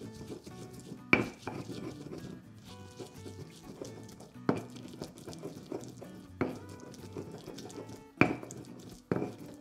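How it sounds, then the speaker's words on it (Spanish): Onions, garlic and salt being ground for salsa, likely in a molcajete, heard as quiet scraping and grinding with several sharp knocks and clinks spaced a second or two apart. "Y ahora sí vamos a empezar a moler."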